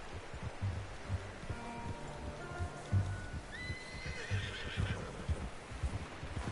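In the video game Red Dead Redemption 2, a horse gives a drawn-out whinny while its hooves clop in a loose rhythm. Soft rain patters in the background.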